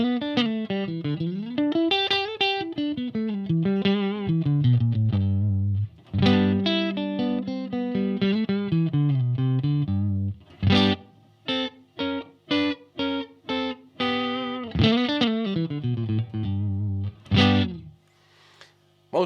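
Clean electric guitar tone from a mahogany Stratocaster with Seymour Duncan YJM Fury pickups through a Marshall DSL20HR amp: flowing melodic runs, then a series of short, sharply stopped chord stabs, loud and close with no talking.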